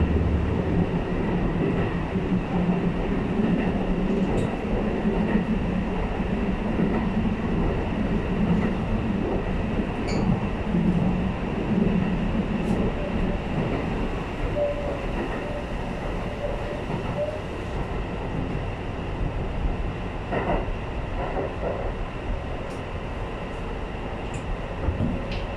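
A Shin-Keisei 8800 series train runs along the Shin-Keisei Line, heard from inside as a steady rumbling roar of motors and wheels with faint clicks and brief squeals, continuous and fairly loud.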